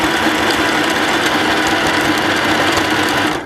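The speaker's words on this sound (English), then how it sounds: "And you're stitching zigzag." A sewing machine runs a zigzag stitch along the ribbed edge of a stretchy t-shirt fabric, a loud fast rattling hum that goes on without a break at close range.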